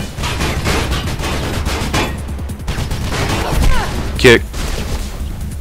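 Machine gun bursts rattle through a Mirror's Edge gameplay scene, mixed with thuds and impacts and a brief sharp burst near the end, while someone talks over the action.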